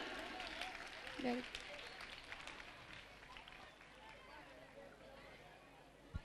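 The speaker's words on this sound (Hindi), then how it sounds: "give a huge applause for these small children" A school annual-function audience claps for small children, the applause faint and distant within a murmuring crowd, with voices and chatter mixed throughout.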